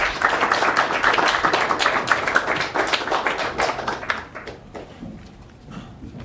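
An audience claps loudly in dense, sustained applause, which thins and fades over the last couple of seconds.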